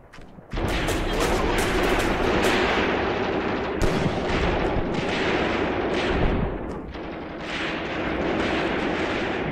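Gunfire and artillery from the video game Graviteam Tactics form a dense, continuous battle roar. Rattling bursts and heavy booms layer over each other, loud and sustained, with one brief quieter dip partway through.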